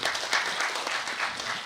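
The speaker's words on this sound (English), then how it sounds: "A round of applause." A conference audience applauds after a speaker at an annual farmers' organisation meeting, a steady, moderate wash of many hands clapping throughout, with no distinct voices standing out.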